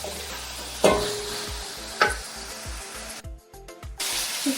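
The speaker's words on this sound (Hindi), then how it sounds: "हल्का सा इसी तरह गोश्त को थोड़ा सा फ्राई करेंगे" Chicken sizzles in a pan under a spatula, with repeated scraping strokes and a few sharp knocks against the metal, close and fairly loud over the constant frying hiss.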